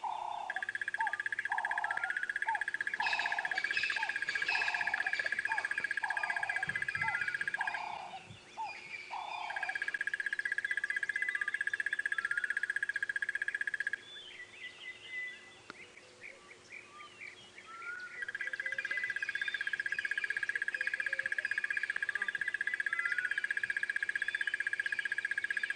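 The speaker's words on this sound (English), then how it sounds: "There, you can all hear him. Wonderful. The crested barbet." A crested barbet calls repeatedly outdoors at dawn on a safari drive, a sustained, rapid trilling run that pauses midway, then resumes, with low rumbling and faint background sounds beneath.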